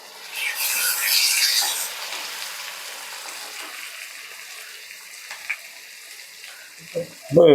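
Onions sautéing in a pan for a goat spleen gravy, a soft hiss and sizzle that swells early then settles low, with a few light clatters and a louder knock near the end.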